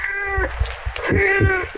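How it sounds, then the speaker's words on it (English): A cat in a radio drama gives two drawn-out, tonal meows, loud and close, the second rising then falling. "You seem to have such a great affection for that cat, Mr. Wake."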